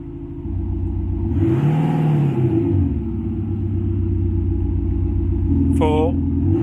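A diesel car's engine, fitted with an exhaust sound profile, hums at idle and is lightly revved so the low rumble swells and settles, close and steady, with a short electronic chirp near the end and no talking.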